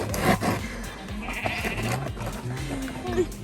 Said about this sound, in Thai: แกะลูกไม่ใช่แพะ